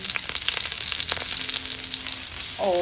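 Garlic sizzles steadily in hot oil, a dense, close frying hiss that holds throughout, with a brief clink of a utensil near the end.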